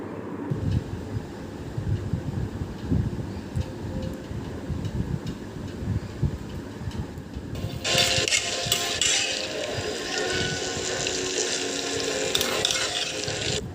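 Marinated chicken hits a hot kadai with turmeric and no oil. A quiet clatter gives way to a loud, bright, continuous sizzle that holds to the end.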